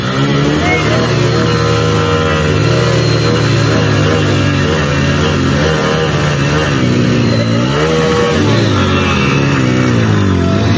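Hero HF Deluxe and Splendor Plus motorcycles on a dusty road start up and rev, a loud continuous engine drone with rising and falling pitch running throughout, close to the microphone.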